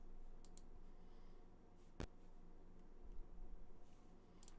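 Computer mouse clicks: a few faint, quick taps and one sharp, distinct click midway, over a low, quiet background.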